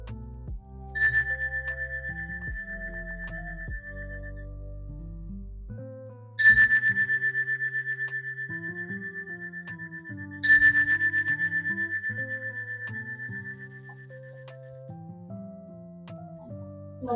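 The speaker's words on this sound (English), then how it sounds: "I'm going to ring the bell here for you." A meditation bell is struck three times, each strike a clear, bright ding that rings out and slowly decays over several seconds. Soft, low sustained tones sit beneath the strikes, and nobody speaks.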